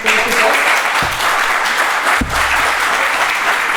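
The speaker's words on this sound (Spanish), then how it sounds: "que deáis un aplauso" An audience at a book presentation claps loudly and steadily, a dense continuous wash of applause with a couple of sharp knocks partway through.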